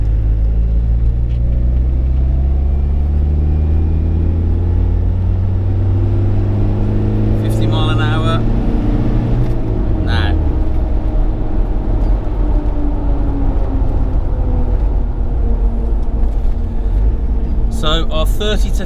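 A vehicle fitted with a boost pin and boost ring accelerates hard through a 30 to 50 run. Its loud engine rumble climbs steadily in pitch, with a few short sharp noises breaking through along the way.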